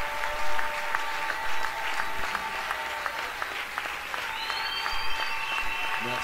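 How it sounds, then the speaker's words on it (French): An audience at a live music event applauds steadily, a dense even clatter of clapping hands with a few faint whistles, moderately loud and continuous. "Est-ce qu'on peut acclamer encore?"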